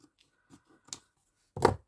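Scissors trim ribbon for a hair bow, giving a few soft, quiet snips followed by one sharper, louder cut close by.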